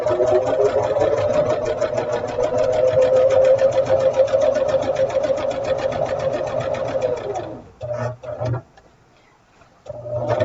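Sewing machine stitching a quilt, running loud and steady for about seven seconds, then slowing into a few short bursts before starting again.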